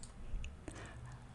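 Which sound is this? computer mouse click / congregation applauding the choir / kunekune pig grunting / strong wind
computer mouse click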